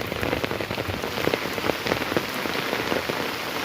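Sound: rain

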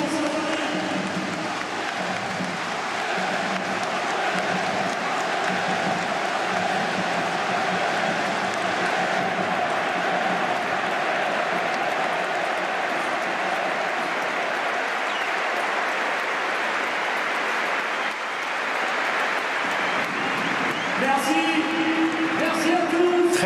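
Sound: stadium crowd applauding during a minute of applause

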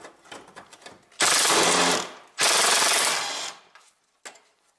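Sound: 10 millimeter socket loosening Toyota Prius radiator bolts

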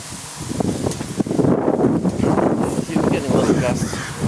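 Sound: gust of wind outdoors

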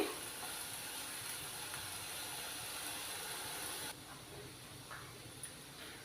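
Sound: masala paste frying in a pan for raw banana curry

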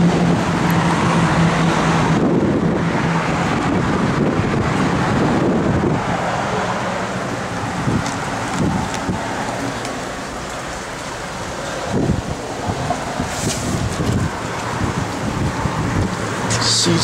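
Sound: strong wind blowing into the microphone outdoors

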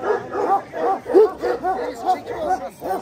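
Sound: dog barking

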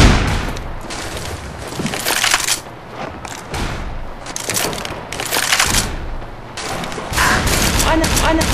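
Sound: gunfire in the video game Left 4 Dead 2

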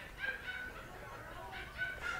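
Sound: birds for sale in a Thai market

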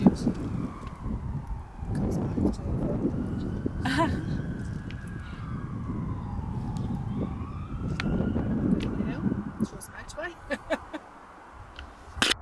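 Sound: ambulance siren passing outside

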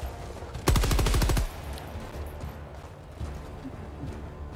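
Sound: Gatling sentinel gunfire in Helldivers 2 video game

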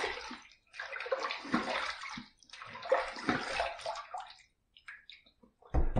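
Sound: water running while rinsing a Windsor Pro safety razor

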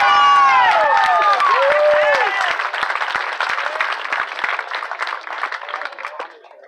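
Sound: applause for homecoming queen

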